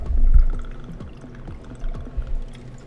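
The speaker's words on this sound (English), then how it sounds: "Pour everything into a shaker." Vodka poured into a cocktail shaker, a close, quiet liquid trickle with small splashes and clinks spread across a few seconds, no voices.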